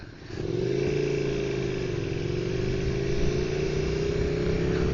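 Several motorcycles riding together on a cold, sunny day, their engines droning steadily and loudly from start to finish with a low, even hum and slight rises in pitch, no talking.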